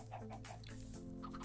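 Chickens clucking in Minecraft on a 1.16 server, a steady run of short game clucks over a continuous low hum, moderately loud with no talk.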